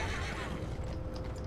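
A horse neighs in the Red Dead Redemption video game, a short whinny over steady hoof clip-clop and ambient game noise, fairly quiet and close.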